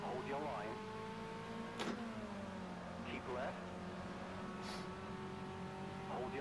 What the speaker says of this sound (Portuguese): Que coisa linda ver esses carros na pista